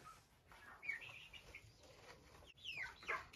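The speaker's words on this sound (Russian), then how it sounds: "Здесь вот курочка маран, петушок фавероль." A Marans hen and a Faverolles rooster in a poultry house give a few faint, short clucks and chirpy calls, scattered over quiet background noise.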